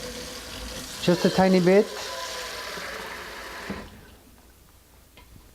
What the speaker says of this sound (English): I'm going to put some cold water here